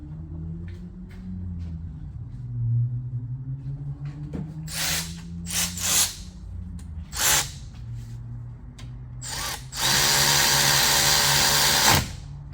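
A power tool drives in a 13mm bolt on the inside of the front brake assembly of a Mercedes S550 W222, with short whirring bursts and a longer sustained run near the end over a low background rumble.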